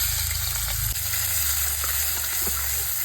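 Chopped onion hits hot oil in a pan, giving a loud, dense, continuous sizzle up close with a few light stirring clicks.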